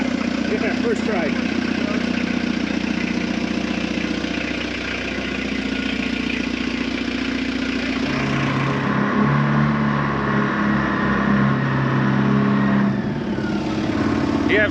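A glow-plug model engine on an RC F-4 Phantom runs continuously, a loud, dense drone that shifts pitch partway through as the throttle changes, with no pauses.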